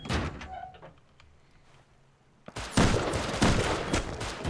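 Gunfire in the Rust survival game, a few scattered shots, a quiet lull, then a sharp crack opening into a loud, sustained rapid volley close by.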